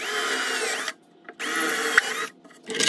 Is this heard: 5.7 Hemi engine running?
no